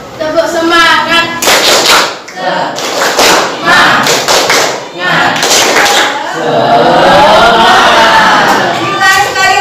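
A classroom group performs a rhythmic cheer clap, bursts of hand claps and thuds alternating with chanted voices, loud and close, in an Indonesian teacher-training class session.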